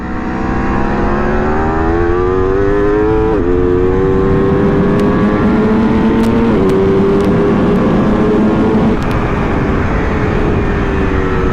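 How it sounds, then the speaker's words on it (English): Aprilia RSV4 RF or Ducati Panigale V4 S sport bike engine revving loud and steady on a racetrack, with its pitch dropping in several abrupt steps as auto-blip downshifts cut in, plus a few brief sharp pops. "the auto blip system on this motorcycle is amazing"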